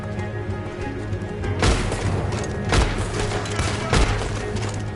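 In the Red Dead Redemption 2 game, loud bursts of gunfire and booming shots crack out over a continuous rumbling background, with heavy hits landing about once a second amid the chaotic action; no speech is audible.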